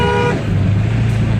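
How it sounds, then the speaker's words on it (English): A short toot of a pickup truck horn sounds at the start while driving over a cattle guard, followed by the steady low rumble of the engine and road noise. "honk over the cattle guard so the trolls don't stab your tires"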